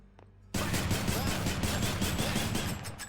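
Gunfire in the video game Hades, a sudden loud burst of rapid, dense shots that cuts in after a short quiet moment and keeps going as one sustained, close volley.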